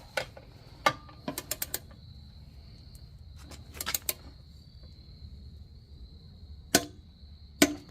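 An engine bolt is tightened with a torque wrench set to 45 foot-pounds, giving sharp clicks and ratcheting bursts in small clusters over a quiet background hum, with no talking.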